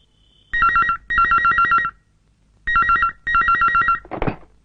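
A telephone bell rings in two double bursts of shrill, trilling electronic tone, separated by a pause, then a brief rustle at the end.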